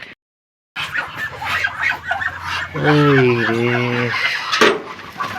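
Muscovy ducks on a farm making a harsh, repeated gobbling-like call of a few seconds, loud and close, over background rustling and faint voices.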